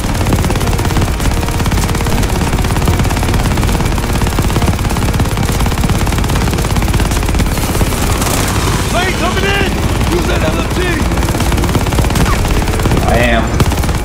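Continuous heavy gunfire from the Call of Duty: Vanguard video game, with dense automatic bursts filling the whole stretch at high volume while a voice calls out in the middle.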